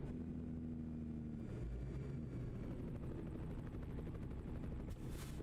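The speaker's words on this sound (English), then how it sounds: "there's a helicopter or something overhead." A helicopter passes overhead in a truck-driving video game, its continuous droning rotor and engine noise blending with the steady rumble of the truck for several seconds, with no one speaking.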